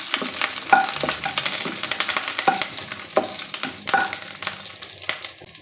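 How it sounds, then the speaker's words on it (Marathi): Green chillies and about a dozen curry leaves sizzle and crackle in hot oil as they are sautéed, a steady spitting hiss broken by sharper pops and spoon scrapes, close and moderately loud with no voices. "दहा बारा कढीपत्त्याची पानं आपल्याला छान असं परतवून घ्यायचं आहे"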